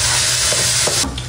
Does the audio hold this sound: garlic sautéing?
yes